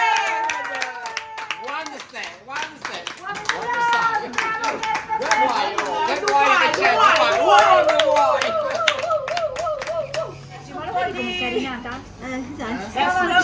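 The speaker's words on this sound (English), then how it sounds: "Applause for Beppe" Guests at an oyster and champagne night in Italy clap for Beppe after his oysters, a small group's scattered hand claps under lively overlapping talk and a voice, rising and thinning over several seconds.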